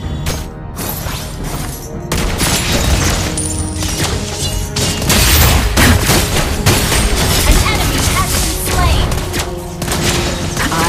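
Sniper gunshots ring out in the mobile video game Mobile Legends amid a busy mix of booming blasts, crashes and effects, loud and continuous, with brief game voice lines.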